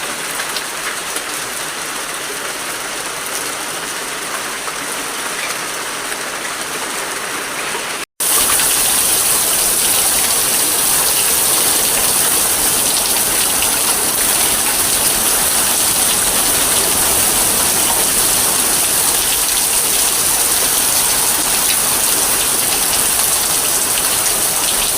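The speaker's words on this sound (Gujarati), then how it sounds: "બપોરનો એનો ટાઈમ હતો અને આવી ગયો વરસાદ. બહુ ગરમી થતી હતી તો ફૂલ વરસાદ આવ્યો." Heavy rain pours down on a hot afternoon in a village, first as a softer wash and then suddenly as a loud, dense, unbroken roar of downpour that continues steadily to the end.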